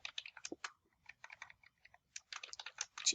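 Close, quiet typing on a computer keyboard comes in short bursts of crisp key clicks with brief pauses between them.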